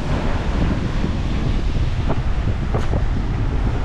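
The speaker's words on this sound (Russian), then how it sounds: "О, волны." Sea waves washing onto a tropical beach at Tangalle, a loud steady roar of surf heavily mixed with wind buffeting the microphone, with no talking.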